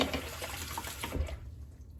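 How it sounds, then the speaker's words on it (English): Running water rinses soap scum off a polished Above the Tie S1 safety razor in a brief, soft, close splash that fades toward the end. "You rinse off all of the soap scum, most of the soap scum."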